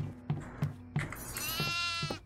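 A goat bleats repeatedly in the horror video game Devour on the Farmhouse map, several short rhythmic bleats followed by a long wavering cry, loud and close with no talk.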